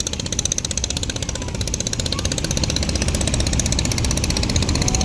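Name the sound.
engines of large passenger launches bound for Dhaka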